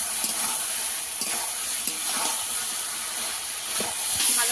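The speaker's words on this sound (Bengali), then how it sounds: "এইভাবে ভালো করে কষিয়ে নিতে হবে।" Dried fish, potato and eggplant stir-fry with cumin paste and spice water in a pan, a steady loud sizzle and hiss with periodic scraping stirs from a spatula, continuous throughout with no talk.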